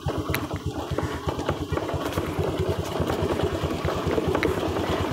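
Vehicle engine running steadily while driving along a narrow, slippery, badly damaged mountain road through estate land and forest, a loud close rhythmic low thrum throughout, with a voice talking over it.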